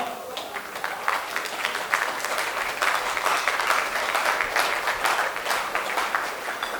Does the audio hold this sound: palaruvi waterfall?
no